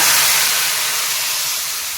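Hot oil tempering poured into Mangalore cucumber sambar, a steady loud sizzling hiss that fades slightly over two seconds, with no voices.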